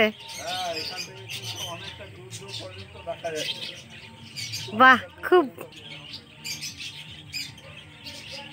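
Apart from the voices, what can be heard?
birds calling at a lakeside bird sanctuary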